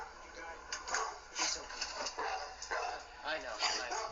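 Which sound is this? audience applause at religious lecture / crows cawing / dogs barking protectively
dogs barking protectively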